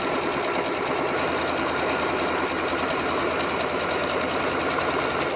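Sewing machine stitching quilt pieces for half square triangles, chain-fed one after another: a steady, continuous rapid mechanical whir and clatter, close and even throughout, with no talking.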